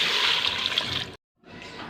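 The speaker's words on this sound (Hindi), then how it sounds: "अब इसमें 2 गिलास पानी जाएगा।" Water is poured from a glass into a cooking pot for a meat and taro curry, a close, full gushing splash that stops briefly, then resumes more softly.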